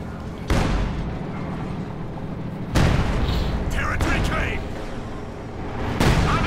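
Soviet artillery shells exploding in the World War II strategy game Company of Heroes 2, three heavy booms spaced a few seconds apart with rumbling decay, under a commentator's talk.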